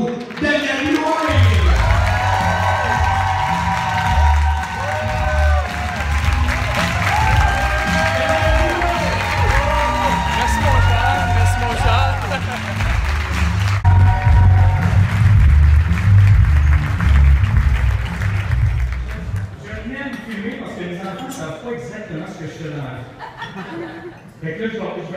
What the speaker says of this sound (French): Une bonne main d'applaudissement pour Daniel Lloyd!